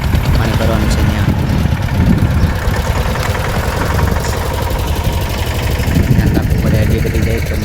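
A farm tractor's engine runs steadily nearby on the way to fetch water. It gives a constant low, rumbling drone that stays even in loudness for the whole stretch.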